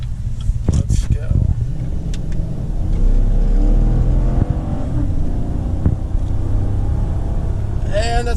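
Engine of a 5.3 Silverado truck running on E85 fuel, a loud low rumble that builds as the truck accelerates hard, with voices talking over it.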